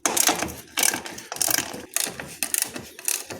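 Working on the headlight of an Alfa Romeo car, heard as a series of close ratchet clicks from a hand tool in repeated short bursts with brief pauses between them.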